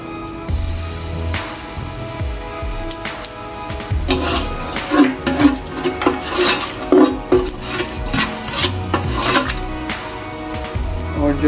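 Whole garam masala sizzles in a pan while a spoon stirs and scrapes against the metal, with clattering strokes in irregular bursts and a voice speaking now and then.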